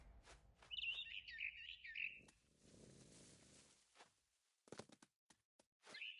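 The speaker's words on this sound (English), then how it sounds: "Then I heard chirping outside my window. It was a barn swallow going back to her nest." Bright barn swallow chirps in a short burst near the start, from a video game, followed by soft rustling and a few scattered taps and clicks, fairly quiet overall.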